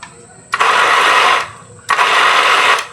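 A household electric water pump with its motor running but failing to lift water, two loud whirring bursts about a second long each, separated by a short quieter gap.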